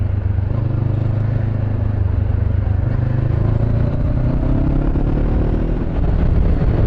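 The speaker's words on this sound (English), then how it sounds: "Just enjoy this bike for what it is on the road" A motorcycle ridden along a road, its engine droning loud and close with a steady low hum, wind noise and a rising pitch toward the end as it accelerates, no talk.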